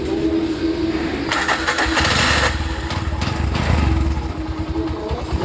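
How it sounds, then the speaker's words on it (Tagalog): An engine cranks and starts after a scanner check, then runs with a loud rough idle and revving surges, close up. "At start lang natin yung makina."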